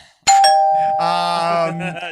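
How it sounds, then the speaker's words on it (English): A doorbell ding-dong sound effect chimes loudly and close: a bright two-note chime, the second tone ringing on and slowly fading, with no talk over it. "Ding dong. Who's there?"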